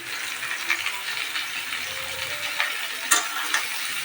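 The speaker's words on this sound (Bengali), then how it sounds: "এঁচোড়গুলো একটু ভেজে নিতে হবে লাল লাল করে" Jackfruit frying in a pan with potatoes and onions, a steady soft sizzle with occasional ticks and scrapes from stirring, close and continuous.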